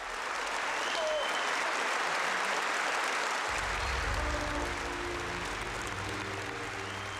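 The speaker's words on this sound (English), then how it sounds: "And the audience applauded their hard work." Sustained, full audience applause following a children's song-and-dance performance, many hands clapping in a thick even roar, with a faint hum entering partway through.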